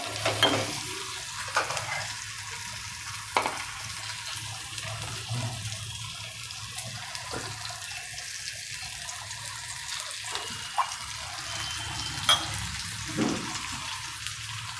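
Chopped onions and tomatoes fry in a pan for a Kathiyawadi dhokli curry, with a continuous bubbling sizzle at moderate volume. Occasional sharp spatula scrapes and clicks sound through the frying, and no one talks.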